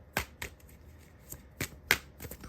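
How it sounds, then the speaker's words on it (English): An Iris Oracle card deck is shuffled by hand in a few quick, separate riffling bursts with short pauses between them, crisp and close, with no talking. "let me start shuffling this Iris Oracle"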